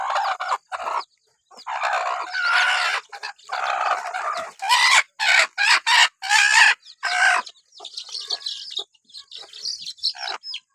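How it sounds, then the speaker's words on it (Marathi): One-week-old desi country chicks and hens cluck and peep close by in bursts, short repeated calls with brief silences between them and no other sound. "हे एक आठवड्याची किल्ला आहे एक आठवडा झालेला आहे यांना वर देशी गावरान आहे"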